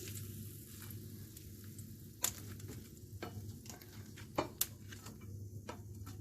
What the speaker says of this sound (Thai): ทำไข่ดาวใส่ผัดไทยเพื่อนๆ